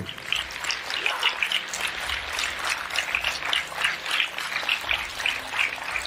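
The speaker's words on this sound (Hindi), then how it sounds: "तो हो जाए एक जोरदार तालियां आपके सेहत के नाम पे" An audience at a health awareness program claps loudly together, a steady, dense patter of many hands that carries on evenly throughout.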